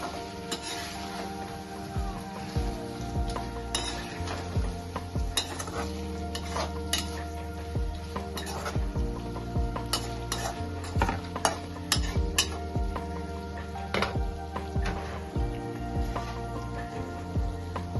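Schezwan prawns stirred in a pan, where a spatula scrapes and clinks against metal in quick irregular strokes over a continuous low sizzle, close and busy throughout.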